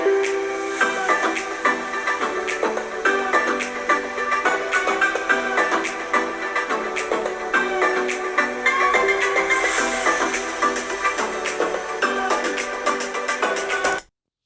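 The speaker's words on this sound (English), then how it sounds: "Speaker test of the Dell G15 Special Edition." Test music plays through the built-in speakers of a Dell G15 Special Edition gaming laptop at 80% volume, a bright, fairly loud mix of rhythmic tones and chords that runs steadily for about fourteen seconds and then stops abruptly.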